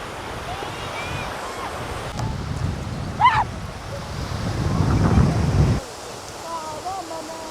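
Atlantic Ocean surf on the Antrim coast rolls in under steady wind buffeting the microphone, a broad continuous wash that surges louder midway before dropping back, with faint bird calls and no talk in the clip.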